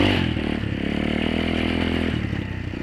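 A dirt bike ridden over about two inches of snow, its engine droning steadily up close with a rough, buzzing note that changes pitch slightly near the end, with faint clattering, no talking.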